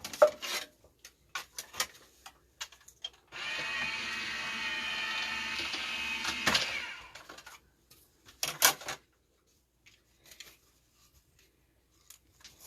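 A cardstock bunny card in a fern texture folder rolls through a manual embossing machine, giving a steady grinding crank of about three seconds, with light clicks and handling noises before and after.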